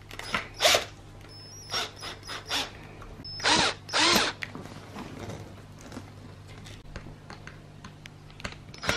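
A screwdriver assembles gripper frames for punch needle tufting, making a series of close clicking and ratcheting bursts of varying loudness, with quieter rustling in between.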